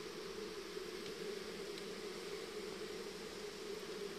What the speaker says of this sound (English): You can tell these bees are queenless. They're crying for a queen.